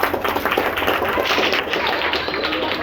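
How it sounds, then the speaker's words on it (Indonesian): A school class in a presentation session claps for the students of class 7A, a dense, steady patter of many hands with a light murmur of voices underneath. "tepuk tangan."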